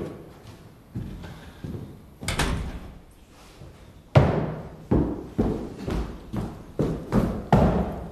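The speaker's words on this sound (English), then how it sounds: "Shut the door behind you." A door is shut in a military interview room in the 2002 film Bloody Sunday, with a series of heavy wooden thuds and knocks, one louder close slam among them, and no one speaking.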